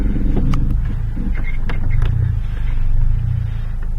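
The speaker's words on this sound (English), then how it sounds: "That's power steering. That's a power steering pump." A Volkswagen engine idling with a power steering pump whining along, a close, steady low rumble with faint mechanical whirring, heard without talk.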